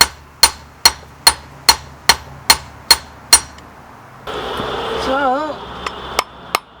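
A hammer forges knife bevels on a viking-style anvil: about eight sharp, evenly spaced ringing blows, then a short pause with a brief spoken word and a few lighter taps.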